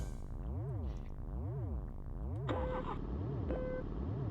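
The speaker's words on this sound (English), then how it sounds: "Nice spaceshipy sounds." Spaceship sounds from the Lego Racers video game on an alien asteroid rally track: a looping, sweeping engine whine that rises and falls in a steady wave pattern, joined by brief electronic beeps.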